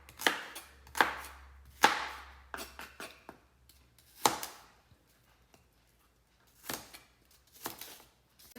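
Knife chopping fruit into even cubes for a fruit salad chaat: about eight to ten separate sharp chops on a cutting board, some in quick pairs, with pauses between them. The chops are close and fairly loud, and nobody speaks.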